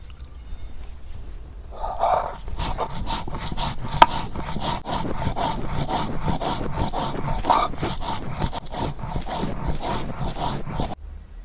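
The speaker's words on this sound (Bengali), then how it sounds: "এখন জিরা বেটে নিতেছি।" Cumin being ground into paste on a grinding stone in a village kitchen, a steady rhythmic scraping and rubbing of stone on stone, repeated strokes close and fairly loud with no talk.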